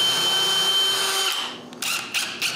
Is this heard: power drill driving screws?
yes